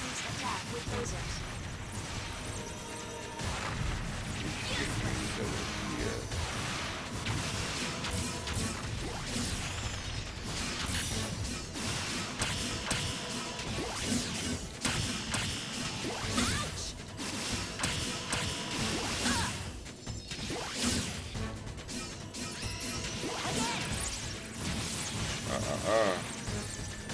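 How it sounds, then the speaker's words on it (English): In the VR game Zone of the Enders, lasers shoot down enemy attacks: dense, continuous electronic blasts, crashes and metallic impacts layered with game music, loud throughout, with a voice talking over the action. "Shoot down the enemy's attack with lasers."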